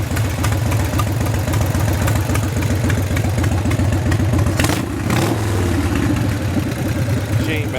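Old Harley-Davidson-style hog motorcycle engine idling as it warms up, a loud close rhythmic thumping that stays steady throughout with a brief blip partway, and a person talking over it.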